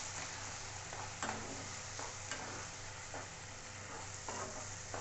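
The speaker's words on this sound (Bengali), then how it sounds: "এর সাথে পুরো পেস্টটা ভালো করে মিশিয়ে নিতে হবে।" Thick spice paste is stirred into fried chicken in a pan, producing a continuous low sizzle broken by regular scraping strokes about once a second, close and fairly quiet.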